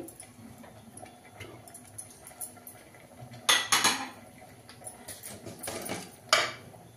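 A small metal spoon clinks against a steel container while scooping chili powder for fenugreek-leaf dal, sparse close taps and a few sharper scrapes and clatters, quiet between them.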